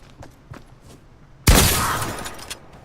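A single loud gunshot in the Fortnite video game cracks out and rings off in a long decaying tail, following a few soft clicks.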